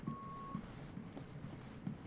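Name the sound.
beeping in video game Twin Mirror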